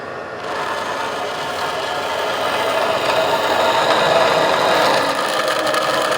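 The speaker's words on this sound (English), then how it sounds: "We're going to go put this on the bandsaw and chop it off." A bandsaw cuts a piece of sheet metal while brakes are being prepared for a Local Motors Cruiser, making a steady, rasping grind that swells slightly louder through the cut, with no voices.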